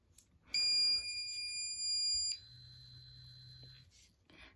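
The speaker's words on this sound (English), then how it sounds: "So yeah, you heard a beep." A dog bark collar gives a sharp, high electronic beep for a couple of seconds, then shifts to a lower steady tone with a faint hum beneath it.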